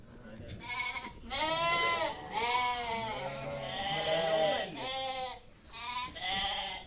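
Sheep bleat repeatedly and close by, several wavering calls overlapping one another, with faint background noise between them.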